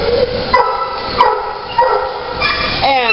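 A dog barks in short yips and whimpers with high, whining cries, repeated several times close by with no voices.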